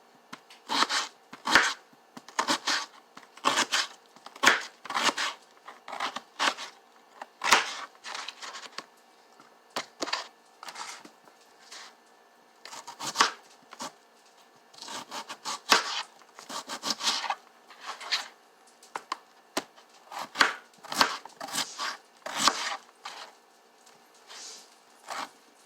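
A knife slices raw potatoes into slices about half an inch thick for hash browns, giving a run of close, crisp cutting strokes in irregular bursts with short pauses between them.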